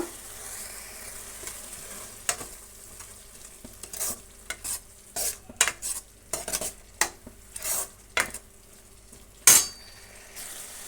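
Masala mixed with curd frying in a pan for soya gravy, a soft sizzle broken by repeated spoon scrapes and metallic clinks against the pan, close and intermittent with no speech.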